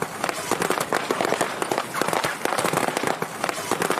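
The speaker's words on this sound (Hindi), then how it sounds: "आप जो पटाखे फूटने की आवाज को सुनते हैं वो गाड़ी और बलून से कुछ इस तरह रिकॉर्ड करते हैं" Firecracker sound effect made with a car and balloons, heard as rapid, irregular cracking and popping bursts that keep up loudly and densely throughout.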